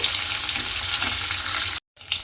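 Eggs frying in hot oil give a steady, dense crackling sizzle that fills the clip, cutting off briefly near the end before resuming.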